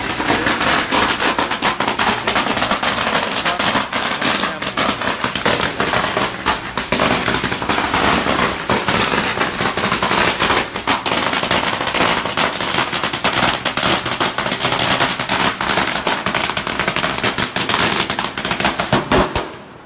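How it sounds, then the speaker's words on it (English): Long strings of firecrackers set off at a temple to honor a monk, a dense, continuous crackling barrage of rapid pops and bangs, loud and sustained for the whole stretch before cutting off at the end. "That's the way people want to pay the respect to him through all the firecrackers"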